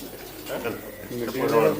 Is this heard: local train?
no